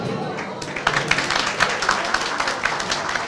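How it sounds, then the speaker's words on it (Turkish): A crowd at a village association's iftar gathering claps for Mehmet Bağca, the clapping building after a brief pause into a loose, uneven burst of applause that continues to the end. "Mehmet abiye hasreten hepinizden alkış istiyorum"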